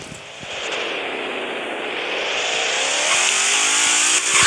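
An ambulance engine revs steadily higher over several seconds, loud and close. The owner says the motor has been strengthened, and no talking is heard over the rising drone.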